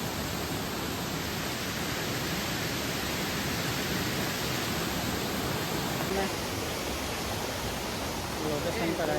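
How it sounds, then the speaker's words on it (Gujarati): Hanmatmal waterfall in Dharampur during the monsoon, a steady broadband roar of falling water that stays constant and loud throughout, with a voice speaking faintly over it near the end. "તો આ ધોધ દેખાઈ રહ્યો છે."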